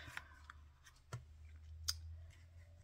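Scissors snipping through card stock while making pocket-style Christmas cards: a few quiet, sharp snips spaced apart against a faint, near-silent room.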